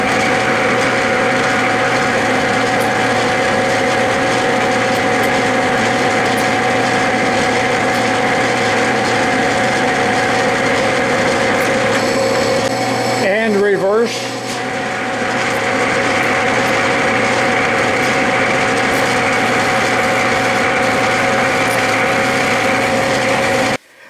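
A metal lathe running steadily while a tilted knurling tool presses a pattern into a part for a Bridgeport rapid quill stop, a constant loud mechanical hum with a brief squealing change midway.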